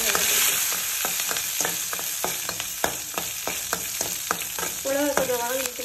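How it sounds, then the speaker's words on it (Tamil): Green chillies dropped into hot oil with popping mustard seeds, sizzling and frying steadily while being stirred, with sharp spits and crackles recurring throughout, close and fairly loud, for a tamarind-free rasam. "கடுகு வெடித்தோடனே அடுத்தது பச்சை மிளகாய்."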